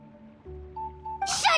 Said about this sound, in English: Oh, great Kahul Ahau, bless you.